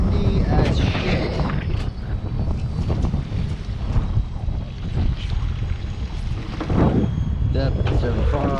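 Strong wind buffets a fishing boat out after striped bass in heavy wind against the tide, a loud steady roar and rumble across the microphone with water slapping beneath, while people talk over it.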